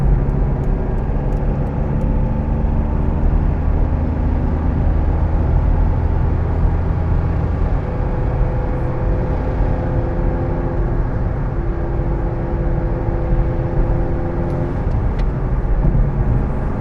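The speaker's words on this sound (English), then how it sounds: "It's so fun driving an Aygo on the motorway because you really feel like you're using all the power that the car has." A Toyota Aygo drives along a UK motorway and overtakes, giving a constant loud road and engine drone with tyre roar and wind noise that stays steady from start to finish.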